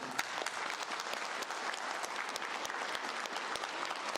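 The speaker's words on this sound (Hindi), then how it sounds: "ये तालियां जोरदार हैं।" Vigorous audience clapping at a business leadership masterclass, a continuous dense wash of many hands lasting several seconds without speech.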